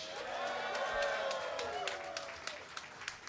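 An audience at a live show near WWDC 2024 gives a round of applause for a singer, the crowd's clapping blended with sustained sung or musical tones that fade as sharper individual claps come through.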